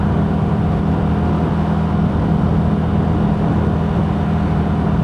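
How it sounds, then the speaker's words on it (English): Steady engine and road rumble from a vehicle driving along a Nevada road, with a pickup truck hauling a trailer following close behind; a continuous low drone with no talk over it. "I do have a truck behind me."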